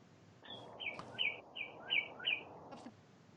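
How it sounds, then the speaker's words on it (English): A bird chirps in the background, a quick series of about six bright, evenly spaced tweets, quiet and alone. "Are those Atlanta birds?"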